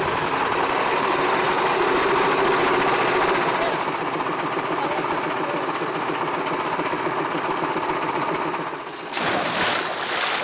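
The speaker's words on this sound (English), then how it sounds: "He'll breathe air through a hose pipe that's connected to a compressor that's over 50 years old." An air compressor more than 50 years old feeds a diver's breathing hose on a boat, a loud, continuous mechanical drone with a fast chugging pulse that dips briefly near the end.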